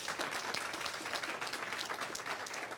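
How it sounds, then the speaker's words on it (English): Crowd clapping at the close of a tech meetup on Spring Cloud Data Flow, a steady wash of dense applause from many hands, even and sustained, with no talk over it. "Yeah, clap."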